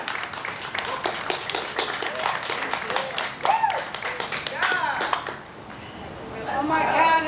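Audience clapping for a poetry reader at a Juneteenth reading and remembrance event, a dense patter of many hands that swells and thins over several seconds while voices talk over it.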